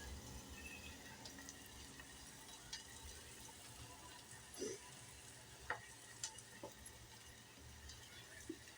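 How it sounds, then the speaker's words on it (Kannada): Peanuts and garlic fry in a pan with a soft, steady sizzle. A few sharp pops and scrapes stand out over it, faint and close, with no talking. "ಈಗ ಚೆಂದಾಗಿ ಇದಕ್ಕೆಲ್ಲ ಫ್ರೈ ಮಾಡ್ಕೊಂಡು ರೀ ಈಗ ಶೇಂಗಾ ಮತ್ತು ಇದು ರೀ ಇದು ಹಾಕಿ ಬೆಳ್ಳುಳ್ಳಿ"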